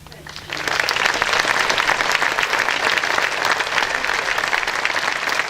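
A crowd at the 19th Annual Lake Tahoe Summit applauds the fire chiefs, starting after a brief pause and building into sustained, dense clapping that carries steadily to the end.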